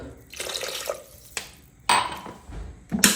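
Glassfuls of water are poured into a pot of egg kabsa rice as it cooks, making several separate splashing bursts with gaps between them and a sharper final pour.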